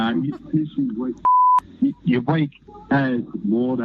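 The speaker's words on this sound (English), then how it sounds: "we had to beep it out there because he used a pretty strong word" A single steady censorship bleep, a pure tone lasting about a third of a second, covers a swear word in a man's speech, with talking before and after it.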